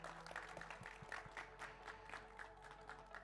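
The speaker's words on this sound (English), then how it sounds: "Vous pouvez l'applaudir bien fort." Audience at a Trackmania grand final LAN event applauds the second-place finalist, a moderate, somewhat distant patter of clapping over a steady low hum.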